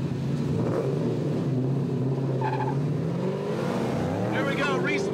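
Formula Drift semifinal battle in Houston between an RMR Pontiac GTO and a Mustang, with loud engines revving and screaming steadily throughout, tire squeal rising near the end, and a commentator talking over the racket.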